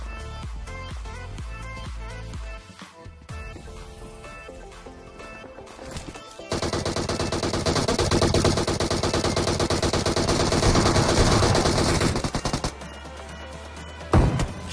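Shotgun blasts and rapid gunfire from PUBG Mobile ring out as dense, loud bursts, with a sustained stretch of heavy shooting in the middle of the game action.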